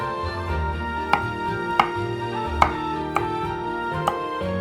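A knife slices through carrots on a cutting board, five sharp chops at a steady, unhurried pace over a constant low background hum.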